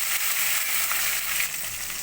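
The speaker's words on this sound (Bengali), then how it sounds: "দিয়ে এগুলোকে একটু নেড়ে চেড়ে ভেজে নেব" A steady, hissing sizzle of spices frying in hot oil, close and continuous, with no talking.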